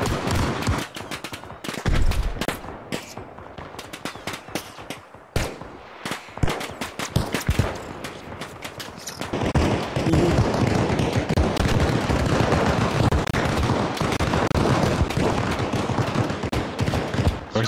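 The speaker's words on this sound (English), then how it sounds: "we're getting shot up from somewhere" Sustained gunfire in the military shooter Arma Reforger, M60 machine guns among it: dense bursts and rapid sharp cracks, some close and loud, others more distant, building into a heavy continuous barrage.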